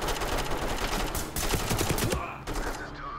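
Gunfire in the tactical shooter Ready or Not: dense automatic bursts crack loudly in close succession, then cut off abruptly, leaving a quieter tail with faint voices and tones.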